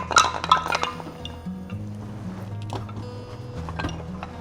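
A percussion instrument found in an abandoned primary school is struck, giving a couple of bright ringing clinks at the start followed by lower lingering tones and softer taps, close and without talk.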